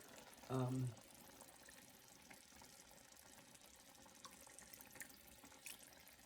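Water poured into a pot of jollof rice being steam-cooked with meat stock, one short splashing pour of about half a second, then quiet kitchen room noise.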